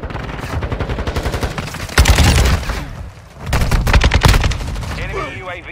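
Call of Duty gunfire erupts in repeated automatic bursts, some loud and close, others farther off, with brief lulls between volleys and busy in-game battle noise underneath.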